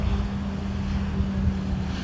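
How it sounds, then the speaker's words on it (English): Steady wind blowing outdoors under an incoming storm, a continuous low rumbling roar buffeting the microphone with no breaks. "Wind."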